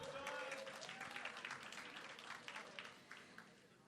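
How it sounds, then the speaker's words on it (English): Audience clapping at a morning business networking event, a steady burst of applause that fades slightly over a few seconds, with a voice over the clapping. "Let's give Todd another round of applause."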